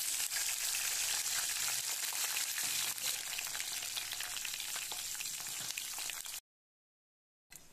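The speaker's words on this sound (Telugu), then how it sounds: "ఒక గిన్నె తీసుకొని ఆయిల్ వేసుకొని పచ్చిమిర్చి, జీలకర్ర, వెల్లుల్లిపాయలు వేసుకొని వేగనివ్వాలి" Green chillies, cumin and garlic sizzle steadily in hot oil in a pan for chutney, a close, even crackling fry that cuts off abruptly near the end.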